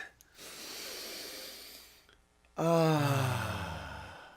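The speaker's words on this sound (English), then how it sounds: "let's take a breath" Breathy airflow comes first, a soft inhale then a long exhale, then after a brief pause a deep, voiced, groaning sigh sounds close and fairly loud, fading out toward the end.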